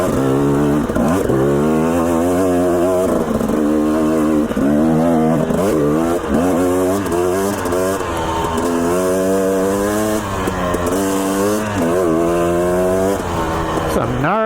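Dirt bike riding single track trail in the Sawtooth Mountains near Stanley, Idaho, the engine revving up and down in repeated surges close to the rider, with some talk in the background.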